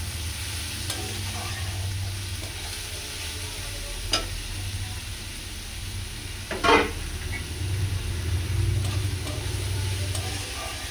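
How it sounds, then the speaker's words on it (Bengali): Finely chopped onion frying in a pan for doi katla, a soft continuous sizzle with occasional stirring scrapes and a sharper clatter partway through, no voices. "পেঁয়াজটা একটু ভাজা হোক"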